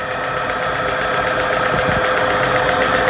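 A reciprocating air compressor runs steadily during its break-in, a loud continuous mechanical drone with a fast even knocking pulse throughout and no voices.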